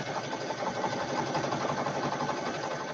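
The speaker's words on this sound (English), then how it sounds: "So we're just listening to Jennifer Sew actually embroider." Embroidery sewing machine stitching a Halloween mug rug, a steady close mechanical whir with rapid repetitive needle ticking, alone and fairly quiet.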